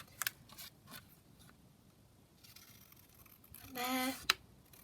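Scissors snip through paper for a junk journal, a few quiet crisp cuts spread out, then a louder longer slice near the end, with a voice speaking softly.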